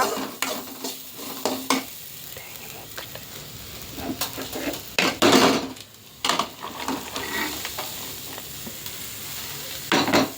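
Food being stirred in a cooking pan during a Malayalam home recipe with papaya, with scraping utensil strokes against the pan in bursts over a soft sizzle, close and moderately loud.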